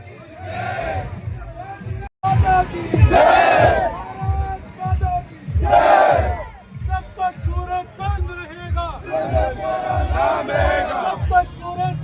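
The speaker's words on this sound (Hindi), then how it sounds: "भारत माता के जयकारे लगते हुए हजारों की भीड़ देखिए यहाँ पर।" A crowd of thousands chants patriotic slogans in loud rhythmic unison at a martyred soldier's funeral procession, the chant swelling and dipping in repeated waves across the whole stretch.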